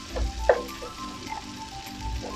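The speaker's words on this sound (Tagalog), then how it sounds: "Gisa-gisa lang natin ang kamatis" Tomatoes sauté in a pan, a soft low sizzle with a few light clinks and stirring scrapes, short and close with no voices.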